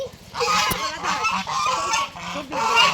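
Ducks or geese honk repeatedly up close in a rural village setting, with a quick series of nasal calls overlapping one another.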